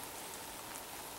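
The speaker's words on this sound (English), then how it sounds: "It's just started to rain right now." Steady rain falling outdoors during a muzzleloader hunt, a dense even hiss of drops with no other sounds.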